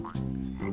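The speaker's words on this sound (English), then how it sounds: "it's a frog" A frog croaks in a steady, close, buzzy drone lasting under a second, with a shift in pitch partway through.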